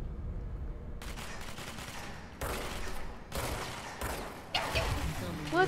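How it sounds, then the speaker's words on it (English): Gunfire in the video game Control, heard as several loud, sharp bursts of shots in quick succession over a low background rumble. "Now start shooting, Buster."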